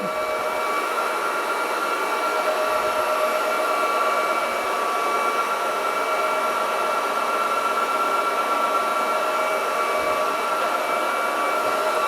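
Roborock Dyad Pro wet-dry vacuum running steadily as it sucks up spilled liquid from a floor, a constant loud motor whine with airy hiss and no speech throughout.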